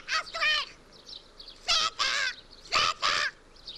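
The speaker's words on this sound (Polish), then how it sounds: "Uciszcie tego ptaka, bo szaleje." A parrot squawks in a series of loud, harsh screeches, three paired bursts with short pauses between them, close and clear against a quiet background.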